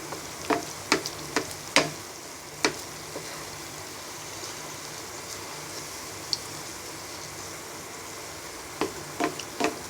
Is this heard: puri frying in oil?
yes